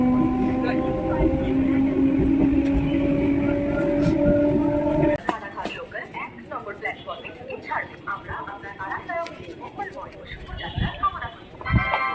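Rumbling interior of a moving train with a steady mechanical hum that gives way to rattling, clattering motion noise, with voices talking nearby.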